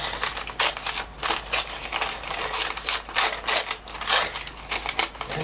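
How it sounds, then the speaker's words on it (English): Paper being torn along the edge of a strip of tape in a series of short, crisp rips, close up, with brief pauses between pulls. "When you tear it, because of the tape, it tears along the edge of the tape"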